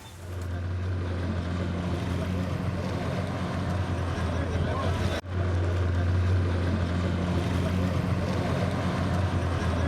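A water bike (jet ski) runs on the Kanva reservoir, its engine giving a steady, loud, close drone for the whole stretch, with one brief break midway.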